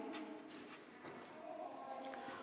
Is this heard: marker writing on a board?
yes